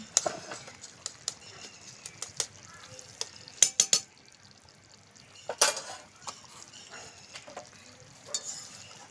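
A spoon stirs a spiced ghee mixture with garam masala in a metal pan while making village-style doi potol, giving sparse, irregular scraping clicks and clinks over a quiet, faint sizzle.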